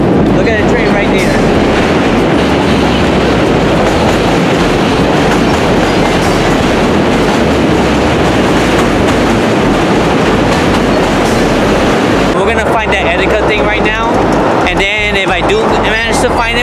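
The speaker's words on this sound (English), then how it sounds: "the train's passing by right now" A train crossing the Manhattan Bridge in New York rumbles past up close, a loud continuous roar with rhythmic wheel clatter that thins out near the end, with a voice speaking at times.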